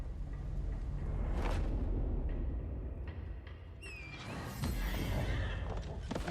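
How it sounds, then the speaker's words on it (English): A horse whinnies in an Elden Ring fantasy game trailer, a brief rising neigh over loud rumbling, orchestral-style trailer sound, with no talking. "I guess that is a horse."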